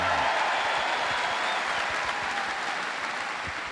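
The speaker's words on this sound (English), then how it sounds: "Give a round of applause to Dimitar" A strongman competition crowd gives a round of applause for Bulgarian strongman Dimitar Sabatino, dense continuous clapping that fills the space and fades slightly toward the end, with no talking over it.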